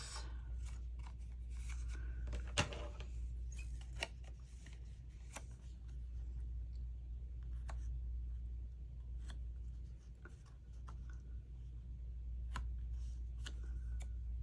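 Scissors cut through paper in a quiet craft setting, sharp isolated snips scattered across a low steady background hum, with no talking.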